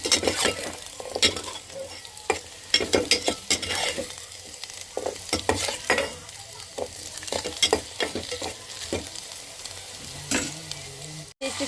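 Food frying in ghee in a pan, with repeated scraping stirs and bursts of sizzling in an irregular rhythm, close up and moderately loud, with no voices.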